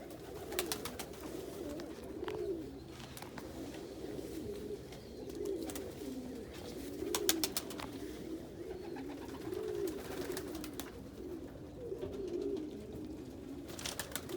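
Pigeons coo steadily inside a pigeon loft, soft overlapping throaty calls continuing throughout, with occasional sharp flutters or clicks.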